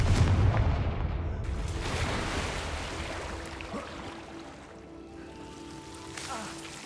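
A Confringo blasting spell in Hogwarts Legacy goes off in a booming explosion that rolls into a fading rumble, followed by scattered debris and softer game effects.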